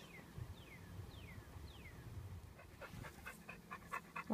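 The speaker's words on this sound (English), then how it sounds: "I don't know whose dog that is" A dog pants in quick, soft rhythmic bursts during the second half, faint and close-ish, while thin descending chirps and low background rumble sit in an RV setting during water heater repair work.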